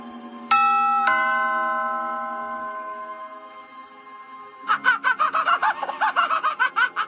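A doorbell is rung inside a horror video game: two clear, ringing chime tones a half second apart that fade slowly, followed after a pause by a loud, rapid run of pulsing, clucking-like game sounds.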